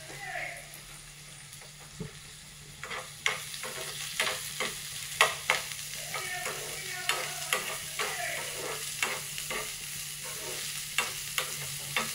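Finely chopped onion sautés in a pan for a cheese bread filling, with a soft, steady sizzle under repeated scraping and clinking strokes of a spoon stirring at a loose, uneven rhythm.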